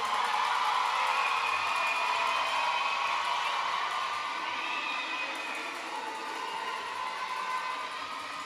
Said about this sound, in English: we're going to take a couple minutes for you all to cheer for your children one time